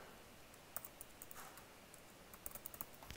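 Typing on a computer keyboard while logging in as a user to F5 iWorkflow, heard as faint scattered key clicks, with a small burst near the start and a quicker run of taps toward the end.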